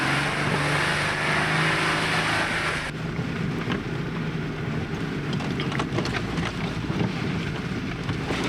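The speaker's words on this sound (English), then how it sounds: "the wind is just gusting like crazy up here" Strong gusting wind buffets the microphone on a hilltop off-road Jeep trail at Rose Garden Hill, loud roaring rushes that ease slightly after a few seconds but keep blowing steadily throughout.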